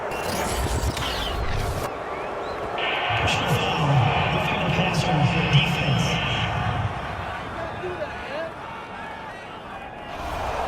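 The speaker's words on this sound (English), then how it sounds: "this crowd does not like that call" A large stadium crowd at an NFL football game between the Seahawks and Eagles roars and murmurs in a sustained wash of noise after a penalty call, rising in intensity, with commentators talking over it.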